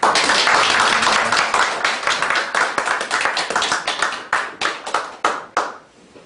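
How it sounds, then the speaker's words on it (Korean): A church congregation applauds after a Wednesday sermon, a dense burst of many hands clapping close and loud that thins into scattered, separate claps before fading out. "우리 정리의 박수 한번 합시다."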